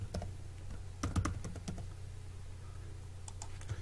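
Keys clack on a computer keyboard as a password is typed, a few quick bursts of taps over a steady low hum, close and fairly quiet with no talking.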